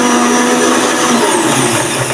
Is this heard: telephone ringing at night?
no